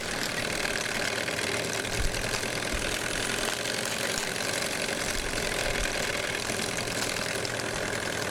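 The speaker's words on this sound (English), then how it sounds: "You can see that safety valve lifting off the top." A Mamod Telford live-steam model locomotive hisses and chuffs continuously as its safety valve lifts, a close, steady, rough mechanical rumble with occasional knocks.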